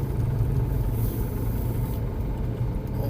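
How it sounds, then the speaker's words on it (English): Steady low rumble of road traffic heard from inside a car, a continuous engine and road drone with no distinct passing vehicles standing out. "oh man, there's so much traffic"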